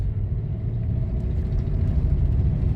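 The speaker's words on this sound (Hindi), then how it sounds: "अब मैं एक्सीलेटर प्रेस करता हूँ।" A Kia Seltos facelift SUV picks up speed after cruise control is switched off, its engine giving a steady low rumble from inside the cabin with a slight rise as the accelerator is pressed; nobody speaks.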